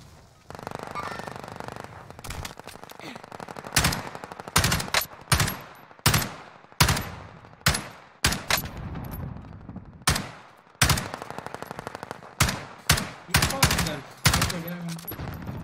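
Gunfire in Call of Duty Warzone rings out as sharp, loud bursts of shots, some single cracks and some quick clusters, broken by short gaps and each trailing off in a brief echo.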